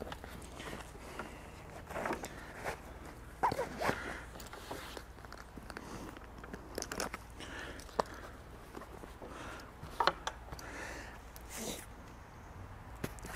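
Repeated short zipping and rustling sounds, close and fairly quiet, come in irregular bursts as the front zipper pocket of an ONA Union Street bag is worked open.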